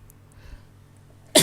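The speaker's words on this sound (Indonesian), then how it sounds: "Maaf bersin ini, aduh gatel." One sudden, loud sneeze right at the end of a quiet stretch, close to the microphone, from a man presenting a stock analysis.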